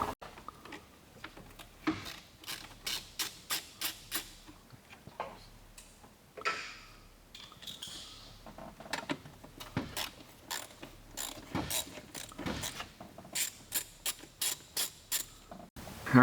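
A ratchet wrench with 8mm and 7mm sockets loosens pipe clamps on the air intake of a Ford F-150 5.0L Coyote engine, giving rapid close clicking runs in steady bursts with short pauses between.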